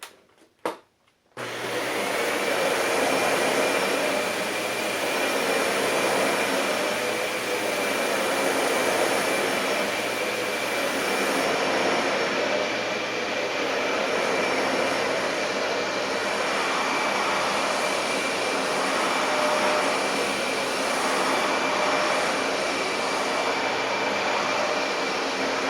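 A Dyson DC65 upright vacuum cleaner runs over carpet sprinkled with baking soda, its loud, steady motor roar continuing throughout after a brief start, with faint rhythmic swells as it is pushed back and forth in repeated passes.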